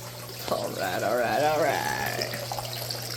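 Steady stream of water pouring into a DIY koi pond filter, a continuous splashing gurgle heard close; someone speaks briefly over it.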